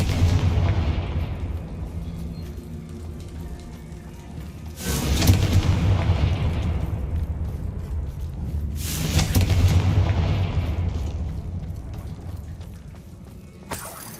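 Two loud, booming fire-spell blasts from the Confringo curse in Hogwarts Legacy, each a deep burst with a rumbling tail, separated by a few seconds of low rumble.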